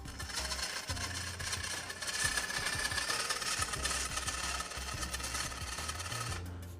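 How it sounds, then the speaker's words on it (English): A WPL C14 RC truck drives along, its front axle jittering, giving a steady buzzing motor whine with rapid rattling vibration throughout, close and fairly loud. "The front axle, it's what's doing all that jittering."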